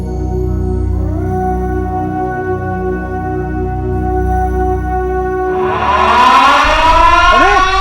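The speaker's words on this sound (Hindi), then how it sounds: "सायरन बज चुका है।" A loud siren wails alone, rising steadily in pitch toward the end over a low droning hum.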